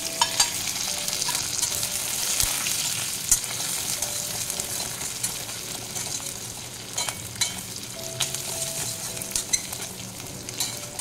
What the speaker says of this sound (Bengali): হালকা ভেজে নিলাম, বেশি ভাজবো না।